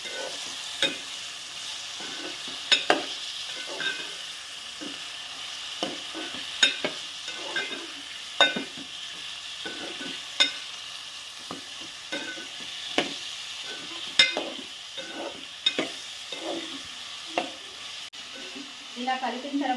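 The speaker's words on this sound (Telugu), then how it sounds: "చికెన్ వేసేసిన తర్వాత ఇప్పుడు కలుపుకోవాలి." Chicken pieces sizzling in a hot pan while a spoon stirs them, scraping and clattering in a steady uneven rhythm over a constant frying hiss, close and fairly loud.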